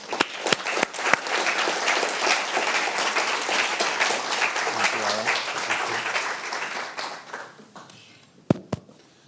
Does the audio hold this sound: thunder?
no